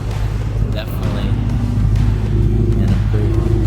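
BMW E92 M3 V8 with a newly fitted, not yet broken-in open exhaust rumbles loudly and steadily at close range, with a deep throaty idle and a slight rise, no talk.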